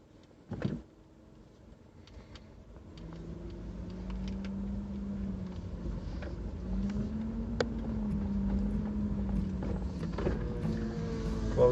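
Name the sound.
2009 Subaru Outback car driving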